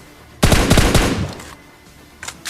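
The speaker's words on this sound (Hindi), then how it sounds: "मैं सिंपल यहाँ पे गन साउंड करता हूँ।" An automatic weapon fires in PUBG Mobile, a fast burst of about half a dozen loud, close shots followed by a trailing echo, then two faint distant shots, with no talk.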